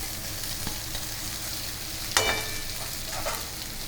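Soaked poha is tipped into a hot pan and stirred, a steady soft sizzle with scraping stirs and one sharper clatter of a spoon partway through, fairly quiet and close.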